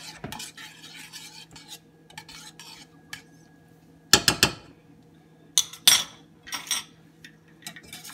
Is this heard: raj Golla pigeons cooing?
no